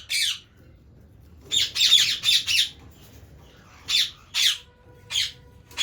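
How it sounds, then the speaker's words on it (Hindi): Green, blue and violet cleartail parrot chicks give loud, harsh squawks close by, first one call and then a quick burst of several, followed by scattered single squawks with short quiet gaps between them. "इनमें एक ग्रीन क्लियर टेल का बच्चा है, एक ब्लू क्लियर टेल का बच्चा है और एक वायलेट क्लियर टेल का बच्चा है।"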